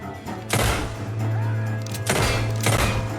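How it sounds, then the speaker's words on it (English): Gunshots fired at a safe in Red Dead Redemption 2, three sharp loud blasts spaced apart over a steady low hum of game ambience. "Okay, shooting it does nothing."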